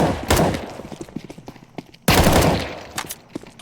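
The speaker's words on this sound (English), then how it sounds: "Let's shoot our teammate." Gunfire in Counter-Strike 2 comes in loud rapid bursts, a rattling fusillade of close shots that breaks off briefly and then resumes with another heavy volley.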